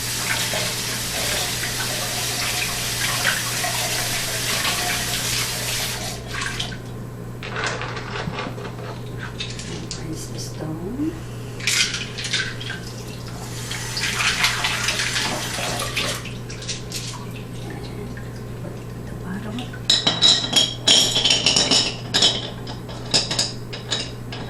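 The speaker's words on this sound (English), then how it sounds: "now we will wash the pot." Tap water washes an orchid pot, a close hissing stream that runs in bursts with quieter gaps and ends in a louder splashing clatter, over a steady low hum.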